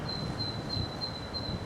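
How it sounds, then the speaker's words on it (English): A great tit sings outdoors in winter countryside, repeating a thin, high note several times at regular intervals against a steady background rumble. "Great tit there."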